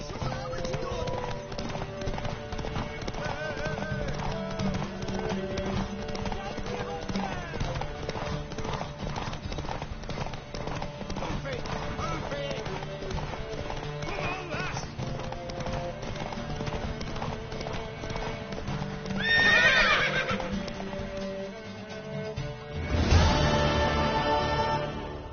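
Steady clip-clop hoofbeats of a horse in The Witcher 3, running under continuous game music and spoken voices, with a brief louder burst near the end; no clear neigh stands out.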